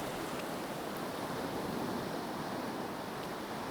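Waves break in shallow surf on a sandy beach, churning up the sand in water barely knee-deep. It comes through as a faint, steady, continuous wash of noise with no voices.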